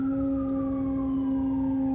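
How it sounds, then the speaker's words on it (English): An ambulance siren passes in the distance on a street, sounding as a sustained wailing tone that slowly falls in pitch, fairly loud and alone with no talking. "there's an ambulance coming past."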